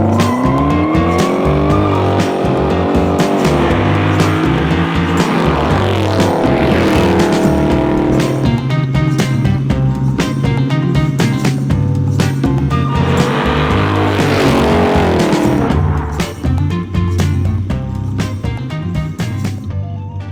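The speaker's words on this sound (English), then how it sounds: "Yeah, this car sounds good." A 500 HP LSX-powered 1964 Chevrolet Chevelle drives hard, its loud V8 roaring and rising through the revs with repeated surges, heard up close and steady for about twenty seconds.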